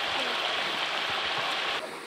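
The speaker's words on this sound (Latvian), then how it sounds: "Tas ir ūdens." Water of a hot river rushes steadily along the bank as a broad, loud hiss, close and continuous with no talk, easing off slightly near the end.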